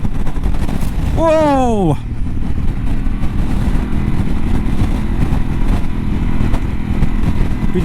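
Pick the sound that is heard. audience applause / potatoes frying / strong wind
strong wind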